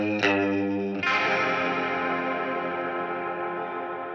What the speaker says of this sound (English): And if we solo out those electric guitars, they sound like this for this part.